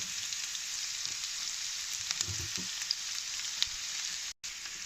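Onion, mustard seeds and cumin seeds frying in hot oil give a steady, close hiss of sizzling, with a few faint pops and light stirring taps partway through.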